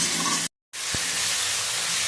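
Salt, turmeric and cumin powder being stirred into tomato curry frying in a pan, giving a steady close sizzle with soft scraping, broken by a brief silent gap and a single light clink.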